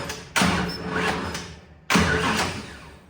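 A 347 stroker engine in a 1965 Mustang cranks over on the starter, jumped at the solenoid, in two close, loud bursts of grinding turnover separated by a short pause.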